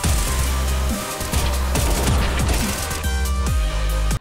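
Booming CS:GO gunshots fire in a quick rhythmic series, close and loud, each shot sharply punched out over a continuous backing track.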